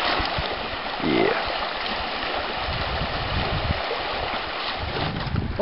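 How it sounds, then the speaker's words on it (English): River rapids rush in a steady, broad wash as a canoe is walked down through them, heard close with wind buffeting the microphone throughout. "Walking the canoe down the rapids, skipping the portage."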